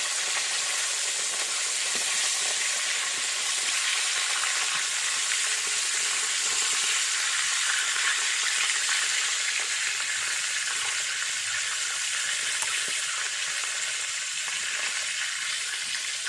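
Fish fries in a pan of hot oil, giving a loud, dense, continuous sizzle with fine crackling throughout and no voices.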